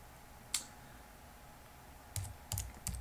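Computer keyboard typing a command into a Linux terminal: one crisp key tap early, then a quiet gap and three or four clicks close together near the end, faint and close-miked, with no talking.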